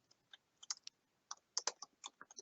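Quick, light keystrokes on a computer keyboard click in an irregular burst of about a dozen taps, close and quiet, with no voices.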